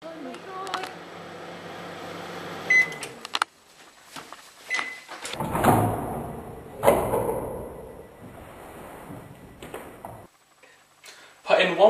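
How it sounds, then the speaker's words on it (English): A microwave oven's steady electrical hum runs for a few seconds, then clunks, its door opening and closing with clatter around a teapot, and brief beeps; a voice speaks at times. "Now put your teapot in the microwave."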